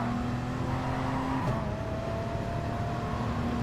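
A race car engine drones in Gran Turismo Sport, a steady close whine whose pitch drops as the car shifts midway and then holds at a lower tone.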